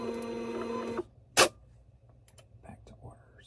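A label printer runs for about a second with a steady mechanical whir, then stops with a sharp click, followed by quiet handling noises.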